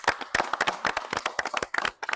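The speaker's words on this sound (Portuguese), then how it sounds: "aplauso para a comunidade jamaicana" A small group claps at a community gathering in Aruba, with sparse, uneven claps in quick bursts. The sound is fairly close and there is almost no talk.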